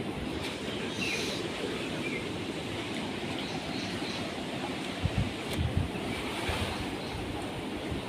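A steady, heavy roar of the flooded Cauvery River rushing near Srirangapatna, broad and unbroken throughout, with no voices.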